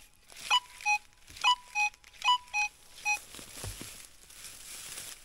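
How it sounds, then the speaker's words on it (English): A metal detector searching for relics gives a series of about seven short electronic tones in uneven pairs over an iron target, clear and close against faint background rustling. "I'm getting an iron, but it's ringing up as 45."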